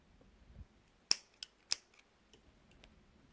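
Scissors snip through crochet thread up close, with two or three crisp quiet clicks in a row followed by a few fainter ticks, in an otherwise quiet room with no talking.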